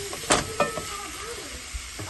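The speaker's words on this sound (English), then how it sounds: "Go ahead and try to stir some of it up." Seasoned ground beef with paprika and onion powder sizzles in a hot pan while a utensil stirs it, giving a few sharp scraping clicks over a soft, steady frying hiss.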